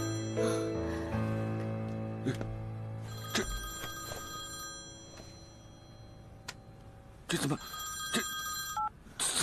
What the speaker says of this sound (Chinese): 这是君君的手机吗